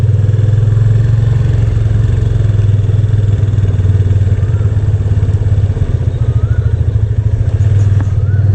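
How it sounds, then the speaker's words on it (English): A motorcycle engine pulls away, the steady mid-pitched drone briefly dipping as the rider shifts into second gear before accelerating again, loud and close. "I pulled in the clutch, disengaged the throttle, shifting into second, again letting go of the clutch and accelerating at the same time"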